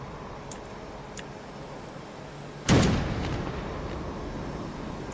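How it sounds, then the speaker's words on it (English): A 30 mm Bushmaster cannon fires in a video game, one sharp loud boom followed by a long rumbling tail, preceded by a couple of faint ticks, with no voices. "It's a 30 mil Bushmaster"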